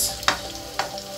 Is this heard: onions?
yes